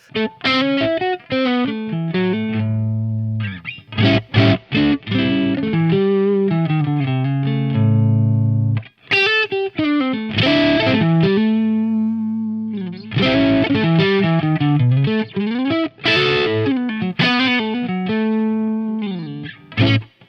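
An electric guitar with single-coil pickups through a hard-clipping overdrive pedal plays bluesy phrases with bent notes and short pauses, the tone gritty but bright, loud and alone without speech.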